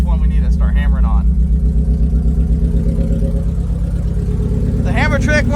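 A 1994 Mazda Miata engine, parked for 11 years, idles roughly and unevenly with a steady low throb, not firing on all cylinders, while people talk over it near the start and end.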